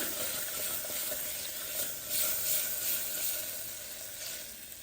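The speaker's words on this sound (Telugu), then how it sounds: "కాలీఫ్లవర్, ఆలు అండ్ పీస్ ఒకసారి టాస్ చేసుకుందాం" Cauliflower, potato and peas tossed in a hot pan for pav bhaji, giving a steady, close hiss of sizzling with soft stirring scrapes and a few louder bursts as the vegetables are turned.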